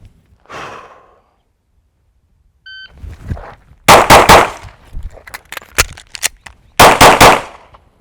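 A handgun in a concealed-carry speed drill fires loud, close groups of rapid shots, with quieter metallic handling and clicks of a reload between them; a breathy exhale comes near the start.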